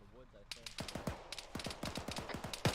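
Rapid gunshots crack in quick irregular bursts during a military field training exercise, fairly close and sharp, with brief radio-style voices underneath at the start.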